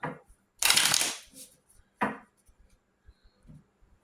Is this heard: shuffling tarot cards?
yes